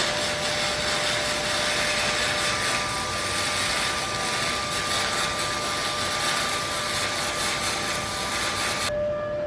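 A gasless MIG welder arcing on a car's roll cage makes a steady loud crackling hiss with a faint tonal hum, running continuously until it cuts off abruptly near the end.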